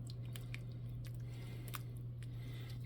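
A spoon stirs a watery soup of cabbage, celery and tomato, giving soft wet squelches and small sloshing clicks spread irregularly over a steady low hum, faint and close.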